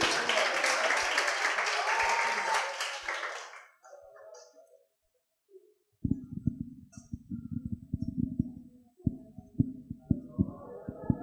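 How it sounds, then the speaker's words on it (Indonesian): Applause for a student group at a Christian leadership training session: a few seconds of brisk clapping from a room of people that fades out, followed by a pause and then scattered thumps and handling noises. "Thank you tepuk tangan buat yang kelompok ini"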